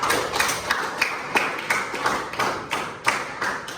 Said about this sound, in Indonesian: Tepuk tangan buat Rizka.